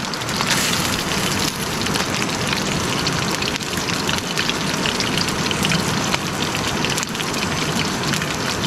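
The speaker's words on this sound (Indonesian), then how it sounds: "Hujan lur, hujan kawan-kawan," Steady, heavy rain pours down at a riverside camping spot, a dense, continuous hiss that stays loud and unbroken throughout with no voices over it.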